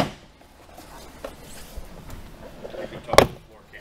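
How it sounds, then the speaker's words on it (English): Plastic retaining clips popping loose as a Toyota 4Runner door panel is pried outward, a sharp loud snap near the end over quiet background handling noise. "You'll hear all the popping noises of the retaining clips releasing."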